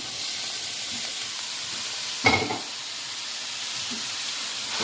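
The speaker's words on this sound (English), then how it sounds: "so now I'm gonna put the minced meat" Minced beef seasoned with Maggi seasoning sizzles steadily in a pan, a constant hissing fry with one brief louder burst of spatter midway, close and with no one talking.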